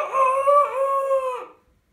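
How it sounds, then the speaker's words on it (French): A farm rooster crows once in a long, drawn-out call of about a second and a half, loud and close, ending cleanly into silence. "Le coq"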